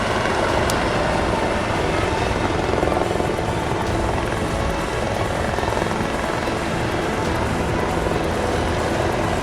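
A helicopter at an air show hovers during a SPIES extraction demonstration with troopers, its loud, continuous rotor and engine roar filling the scene steadily throughout.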